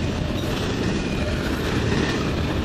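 A CN freight train rolls past with a distributed power locomotive mid-train, giving a steady, loud broadband rumble and rail noise throughout, with no talk.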